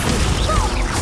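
The Descendo slam spell in Hogwarts Legacy lands as a brief crashing thud with a whooshing sweep, loud against ongoing game ambience.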